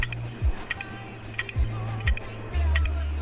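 A dying 20GB hard drive emits the recurring clicks of a failing drive, several distinct close ticks and thumps spaced unevenly over a steady motor whir, heard alone without speech.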